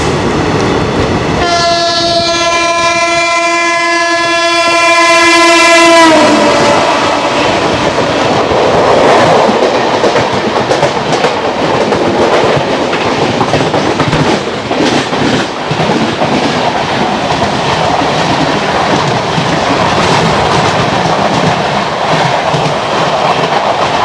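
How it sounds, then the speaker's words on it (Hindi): A high-speed non-stop train passing the Vidarbha Express from the opposite direction, opening with a long, loud, multi-tone horn blast, then a heavy roaring rush and rhythmic clatter of wheels going by close and loud for many seconds. "सामने से कोई तेज़ रफ्तार ट्रेन आ रही है"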